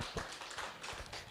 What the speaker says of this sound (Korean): 훌륭한 강연해 주신 이응노 교수님께 다시 한번 커다란 박수 부탁드립니다